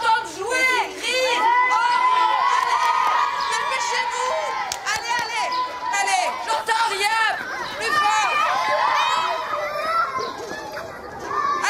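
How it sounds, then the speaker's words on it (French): A group of schoolchildren shout, squeal and call out excitedly while playing together, a loud, dense chorus of high voices lasting throughout. "Je veux vous entendre parler, crier, hurler."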